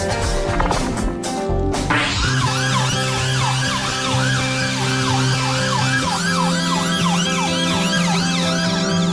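A loud ambulance siren wails continuously with rising and falling tones, preceded by a few sharp knocks, with vehicle rumble underneath.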